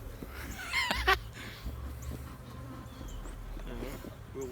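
Stirred-up bees buzzing around a Flow Hive, a close, steady insect drone with individual bees flying past, fairly quiet outdoors.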